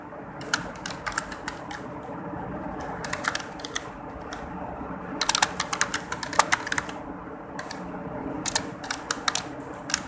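Computer keyboard typing during a BASIC programming lesson: quick bursts of close, crisp keystrokes separated by short pauses, with steady low room hum underneath and no talking.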